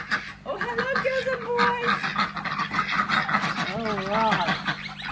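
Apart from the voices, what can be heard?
ducks calling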